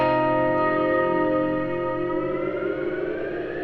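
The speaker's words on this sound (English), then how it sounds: "And you can adjust size as well, which makes the pitch of the reverb slightly different." An electric guitar through a Klowra Limbo reverb pedal with the reverb pitched down, a thick droning wash of sustained tones with a long echoing tail that slowly fades, with no voices.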